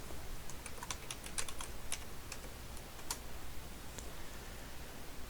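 Typing on a computer keyboard to edit a map legend heading in ArcGIS Pro: quick irregular runs of soft key clicks, close and quiet, over a faint background hiss with no talking.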